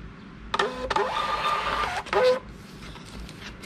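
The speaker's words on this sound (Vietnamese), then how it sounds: "bây giờ mình in thử cái nữa" A Bluetooth thermal label printer prints a shipping label in short bursts of whirring feed and print noise over about two seconds, close and clear in a quiet room, with no talking.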